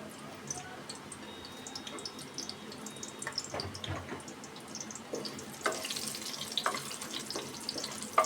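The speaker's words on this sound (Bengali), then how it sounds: "ঘিটা দেওয়ার পর মশলাগুলো দিয়ে দিচ্ছি।" Spices sizzling in hot ghee in a pan: a faint, uneven crackle with scattered pops and light scraping, growing slightly busier toward the end. No one speaks.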